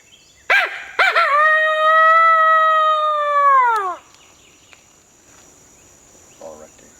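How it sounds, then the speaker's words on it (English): A coyote howl in the woods during a coyote hunt: a couple of sharp opening yips, then one long sustained howl that bends downward and fades. A faint high insect drone runs underneath, followed by a few soft distant sounds. "So far, we've heard these coyotes every time we've tried them."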